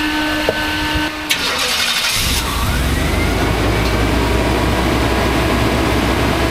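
A van's engine cranks briefly, catches at about two seconds, then settles into a loud, steady idle close by.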